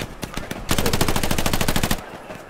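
Machine gun fire in the World War II shooter Hell Let Loose: a sustained, rapid burst of evenly spaced shots runs loud and close for over a second, with quieter game ambience before and after.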